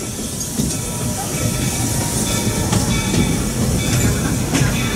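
The Walt Disney World Railroad train pulls into Main Street Station in Magic Kingdom, a loud, continuous rumble and hiss of rolling wheels with faint clacks throughout.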